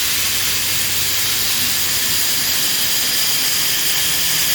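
A farm grinder mixer fills with sheep feed, giving off a loud, continuous roaring hiss with a low mechanical rumble underneath and no pauses.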